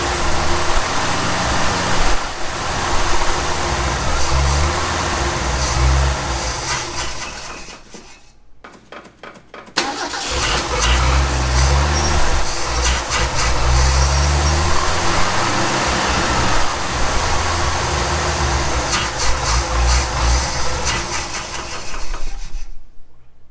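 A 1965 Ford F250 service truck engine, parked for years, runs and revs with rough loud rumbling, drops out briefly mid-way, then restarts and keeps running steadily, no talk over it.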